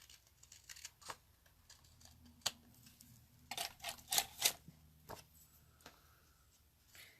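Scissors trimming excess paper on a Stampin' Up! card project: scattered close snips and crisp cuts, with a dense cluster of sharp clicks midway, quiet between.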